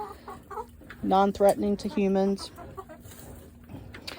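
A backyard rooster kept with hens clucks in a quick run of loud, close calls, then softer scattered clucks, under a person talking.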